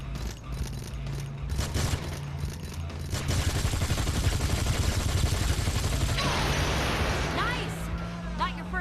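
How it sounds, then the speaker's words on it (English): Rapid bursts of gunfire ring out during a driving chase in the video game Gangstar Vegas, dense and continuous over vehicle engine noise, with characters talking in the middle. "take this gun and shoot at the assholes behind us while I drive"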